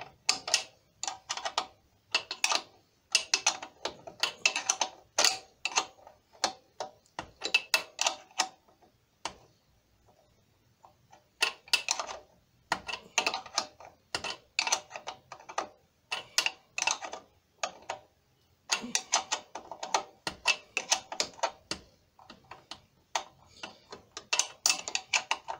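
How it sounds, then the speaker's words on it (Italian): A ratchet clicks in quick bursts while bolts are tightened on the rear brake of a Piaggio Beverly 300 scooter, close and crisp, in repeated runs with short pauses. "Possiamo iniziare a avvitare il primo bullone."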